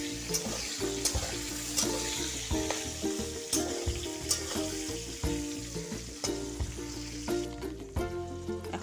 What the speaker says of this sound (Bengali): নাড়াচাড়া করব।